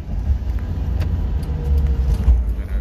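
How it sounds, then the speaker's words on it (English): A Subaru Sambar mini truck, street legal, driving along and accelerating: a steady low engine and road rumble heard from inside the cab, with faint rattles and no talk. "So you can see we're accelerating actually quite a bit."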